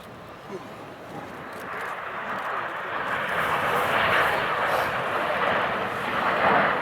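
Red Arrows BAE Systems Hawk T1 jets perform a flying display at the RIAT 2012 Royal Air Force airshow. A broad, continuous jet roar swells gradually louder and holds strong near the end.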